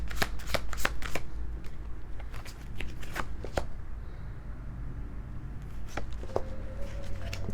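Tarot cards are shuffled by hand in a close series of fast riffling bursts and sharp card snaps, loud at first and thinning out toward the end, with no voices.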